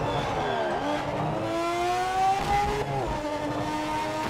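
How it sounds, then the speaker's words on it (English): A Formula One-style race car in a PC racing game revs hard and upshifts, its shrill engine note dropping at each gear change and climbing again, loud and close with no talk. "Another thing that this game has done really well is car sounds."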